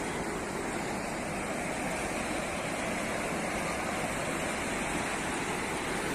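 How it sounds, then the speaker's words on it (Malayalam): Sea waves breaking on the shore at Beypore, Calicut, a continuous loud roar of surf washing in with no pauses, close and alone. "തെര എങ്ങനെ അടിക്കുക, അതാ ഇവിടെ എത്തി."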